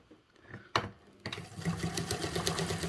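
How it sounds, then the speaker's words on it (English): A sewing machine runs steadily, top stitching the fabric base of a large foldable tote bag with an eighth-inch seam allowance; a short clack comes first, then continuous close stitching hum fills the rest. "So follow me over to the sewing machine."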